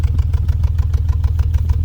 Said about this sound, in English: you could hear the pop pop pop pop pop.